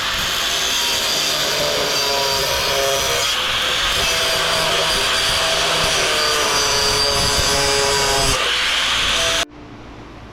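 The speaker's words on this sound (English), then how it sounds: "Now, I guess we just grind that shit away." Grinding tool stripping metal off scrap underwater lighting fixtures containing copper and brass: a steady, loud, broadband abrasive roar with rubbing texture runs for about nine seconds, then cuts off abruptly near the end.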